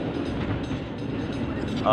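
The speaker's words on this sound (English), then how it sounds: "Why is there a train?" Train sound effect with a steady rumbling, clattering roll of rail cars, loud and continuous for a couple of seconds, with a horn-like tone rising at the very end.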